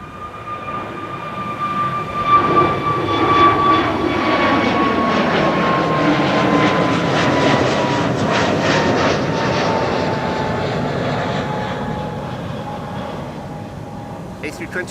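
An Airbus A321neo airliner passes at Amsterdam Schiphol Airport, its steady jet engine roar swelling and holding loud across the whole stretch, with a falling whine fading slowly toward the end.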